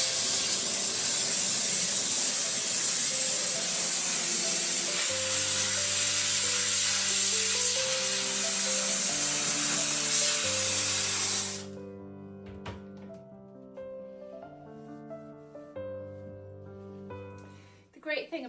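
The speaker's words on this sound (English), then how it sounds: "that is literally with just a quick squirt of steam" A steam cleaner blasts a loud, steady hiss of steam inside a dishwasher for about eleven seconds, then cuts off, leaving sustained musical tones and faint clatter.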